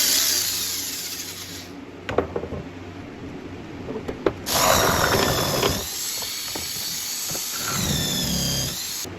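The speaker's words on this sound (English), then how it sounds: "And my electric body saw" An electric body saw whines and grinds through plastic in bursts while cutting a speaker pod for a 2000-2006 GMT800 truck, with a few sharp clicks and knocks between cuts.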